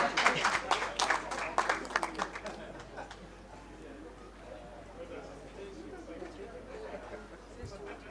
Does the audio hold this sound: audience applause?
yes